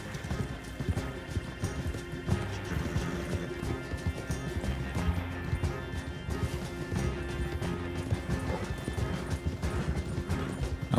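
A horse's hooves clip-clop steadily through the Red Dead Online game world, a continuous close trot with occasional snorts over ambient game sound, running alone without voices.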